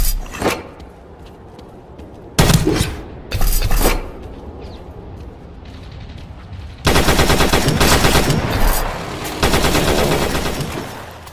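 Gunfire in the World War Heroes first-person shooter: short sharp bursts of automatic fire, then a long loud sustained stream of machine-gun shots, near and punchy, with no talk.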